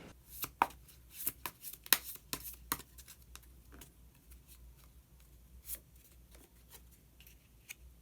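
Tarot cards are shuffled and flicked in quick, close, crisp bursts with short pauses between them, and a final card is drawn; the sound is quiet and there is no speech.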